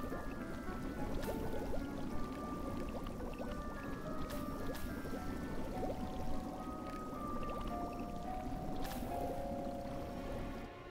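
Liquid pouring from green vials into a cauldron while an herbicide potion is brewed in Harry Potter Hogwarts Mystery, a soft continuous gurgling pour with faint chimes and steady game music underneath.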